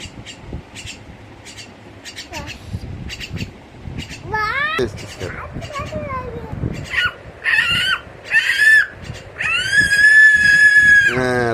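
A pet parrot at home calling out in loud, shrill, squawking bursts that rise and fall, some sounding like short mimicked words, close by and interleaved with children's voices talking.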